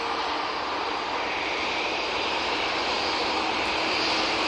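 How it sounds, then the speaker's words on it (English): An easyJet Airbus A321neo airliner on the active runway at Manchester Airport, producing a steady, loud broadband jet engine roar that holds evenly throughout with no talk. "We've got one of Easyjet's A321 Neos now coming on to the active runway."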